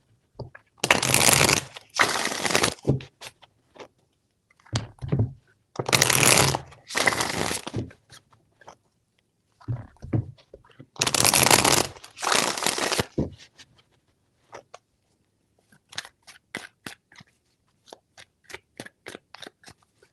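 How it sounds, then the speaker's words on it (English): Tarot cards shuffled by hand in three bursts of dense riffling, each lasting a couple of seconds with pauses between, followed by lighter scattered card taps and flicks, close and clear. "Three shuffles."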